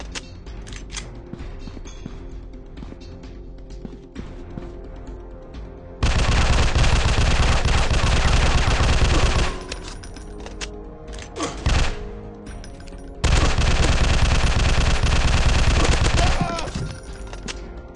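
Gunshots and sustained machine gun fire in the mobile shooter FPS Future War come as two long, loud rattling bursts, with scattered lighter shots and mechanical clicks around them.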